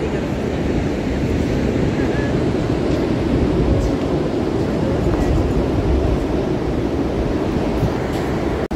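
Ocean surf rolls continuously onto a sandy Florida beach as a dense, steady wash, mixed with wind buffeting the microphone and no clear pauses between waves.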